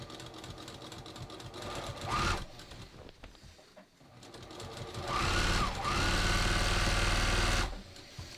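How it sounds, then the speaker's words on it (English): A sewing machine runs a regular straight stitch along a jeans seam, whirring in one burst, pausing briefly, then running louder and steadier for a longer stretch before stopping. "I'm going to just start stitching, and I'm just using my regular straight stitch."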